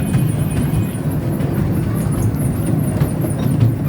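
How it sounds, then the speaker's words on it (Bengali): A small park ride toy train rolls along, a steady close rumble of wheels and motor with faint clatter, no voices heard. "ট্রেন ছেড়ে দিছে"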